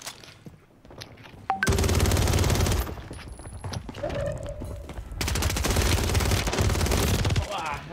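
Bursts of automatic gunfire from the video game Warzone, a long rapid volley followed by a second sustained burst, loud and dense, with faint talk between the volleys.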